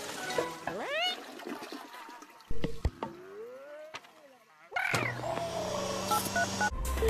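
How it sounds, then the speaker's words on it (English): A toilet flushes in a VR game, with a bright rising tone and a watery rush that cuts in and out, then a steady loud gurgling flush near the end, with no voices. "flush the toilet"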